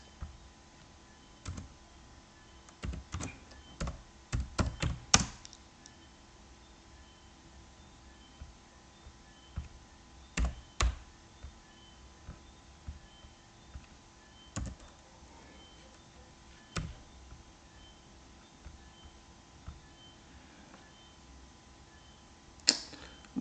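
A faulty computer keyboard clatters in scattered bursts of key taps and harder single strikes, close up against a steady low room hiss, with no talking.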